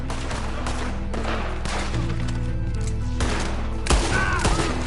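Gunfire in the video game Red Dead Redemption 2: loud, repeated heavy shots and booming blasts in close succession over dense game background noise, with no voices.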